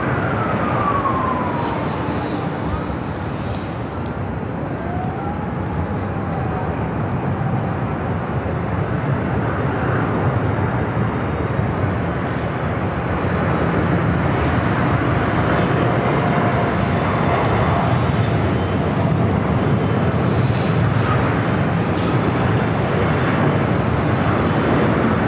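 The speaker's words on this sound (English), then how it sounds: "up next is a Delta 767 to 300ER coming in from JFK" A Delta 767-300ER jet airliner arrives at Los Angeles airport with a continuous jet engine roar that swells slightly partway through, and a faint siren-like whine sweeps by early on.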